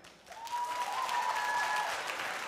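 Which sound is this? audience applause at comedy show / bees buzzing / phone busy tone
audience applause at comedy show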